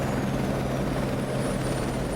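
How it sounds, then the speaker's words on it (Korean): A helicopter flying over central New York, a steady close rotor thrum with a constant low throb and hiss, unbroken and loud throughout. "뉴욕 중심부 상공의 헬기"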